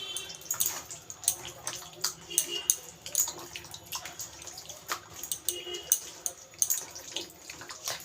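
Raw mutton being mixed by hand with a marinade of sour yogurt and papaya, giving wet squelching and slapping sounds in an irregular rhythm, close and moderately loud with no talking.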